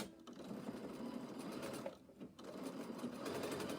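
A sewing machine stitches bag lining in a close, steady rapid whir, with a brief pause midway before the stitching resumes.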